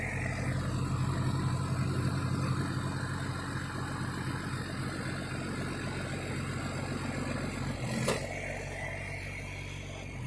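A Cummins diesel swapped into a Super Duty rollback truck idles low and steady, a continuous rumble close by with no talk, broken by a brief sharp click or clank about eight seconds in.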